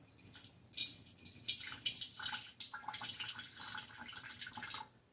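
Rice water solution pours into a container with a soft, continuous splashing trickle that rises and falls, fairly faint and close, with no voices.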